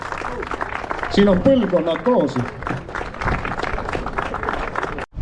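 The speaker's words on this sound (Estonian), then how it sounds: "Aplausid neile meestele." A crowd applauds the winners at a rally prize-giving, with dense clapping running under a voice that speaks throughout before a brief pause at the end.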